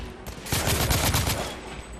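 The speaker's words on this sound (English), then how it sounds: "that guy's just firing wildly." Rapid gunfire in the video game The Order 1886, a loud dense burst of overlapping shots lasting about a second, close and punchy, fading into a tail.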